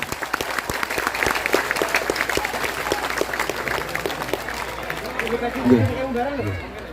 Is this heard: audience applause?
yes